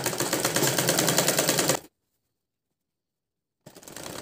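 A sewing machine stitches elastic onto a salwar in a fast, steady mechanical whir with a rapid needle rhythm, heard close. It stops abruptly for almost two seconds of silence, then starts running again.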